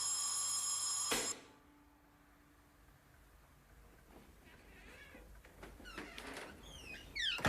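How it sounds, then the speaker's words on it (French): An electric doorbell rings loudly in a French film scene, a harsh continuous ring that cuts off abruptly, followed by quiet room tone and faint chirpy sounds rising toward the end. "Mademoiselle, si vous retirez le plomb, vous coupez l'électricité de la sonnette."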